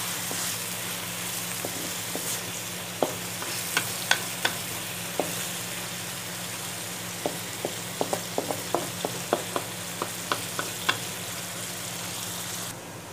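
Onions fry in a pan until light brown, a steady soft sizzle with intermittent sharp clicks and scrapes of a spoon stirring against the pan, fairly quiet and close, no voices.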